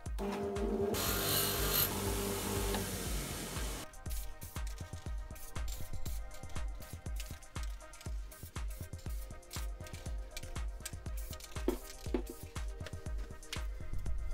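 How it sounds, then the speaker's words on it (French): Brush scrubbing BMW E46 330 level sensor parts and small fixing screws, a steady run of rapid scratchy bristle strokes up close, preceded by a brief stretch of louder rushing noise. "on va nettoyer tout ça à la brosse"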